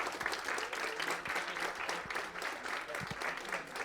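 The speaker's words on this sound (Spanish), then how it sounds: "si pudieran apoyarme con un aplauso para las intervenciones." Audience applause for the participants at a school gathering on visual disability, steady clapping that holds through the whole moment at moderate volume with no voices over it.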